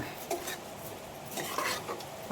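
Rice is stirred and lightly toasted in a pressure cooker pot before cooking prawn rice, giving faint, soft scraping and clinking strokes at an irregular pace.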